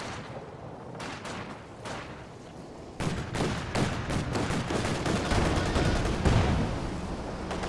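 Maxim machine gun firing in a Company of Heroes 2 battle: dense, rapid bursts of gunfire layered with other weapons and booms, growing louder and busier partway through, with no talking.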